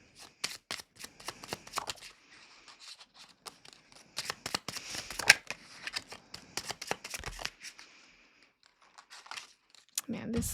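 A tarot deck being shuffled in quick, crisp bursts of riffling and flicking, close up, with short pauses between rounds; the cards shuffle stiffly.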